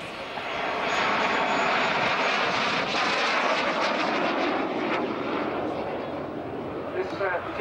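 At an air show, a jet aircraft powered by an Armstrong Siddeley Viper engine roars past loud and close, a broad rushing whine that swells and slowly fades, with a commentator speaking over it.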